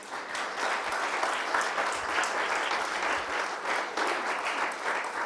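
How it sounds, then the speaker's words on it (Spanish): Congregation applauding at a Spanish-language evangelical church service, steady dense clapping from many people sustained throughout, fairly close and even in level. "Den un aplauso al Señor,"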